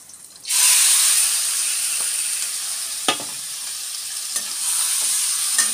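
Cumin seeds and food dropped into hot oil, giving a loud, steady frying sizzle that keeps going throughout, broken by a few sharp clicks of a utensil against the pan.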